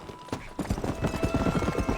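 In Red Dead Redemption, a horse's hooves clip-clop in a quick, regular gallop-like rhythm, fairly close and steady over a low game hum.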